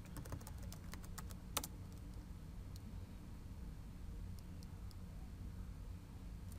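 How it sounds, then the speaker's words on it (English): Password being typed on a computer keyboard, a quick cluster of key clicks early on and a few scattered taps later, faint over a steady low background hum. "I'm going to go ahead and type in my password."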